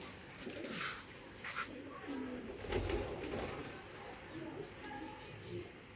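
Racing pigeons coo softly close by, with low, rolling calls that recur while someone talks over them in a quiet room.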